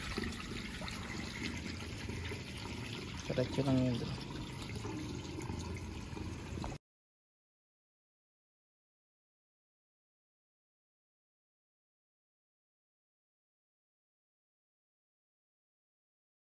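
Water drains and trickles out of a three-layer tarp pond on a rooftop, a steady liquid rush for several seconds with a brief splashy burst midway and a short spoken remark.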